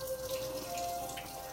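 Tap water runs steadily into a sink while soaked almonds are rinsed, a close, even splashing wash with faint dripping texture throughout.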